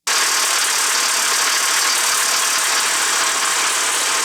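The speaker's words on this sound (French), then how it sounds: "on va démarrer le camion et on va faire des tests" A camper van's diesel engine runs loud and close at a steady idle, a dense continuous rattle and roar from its start to the end.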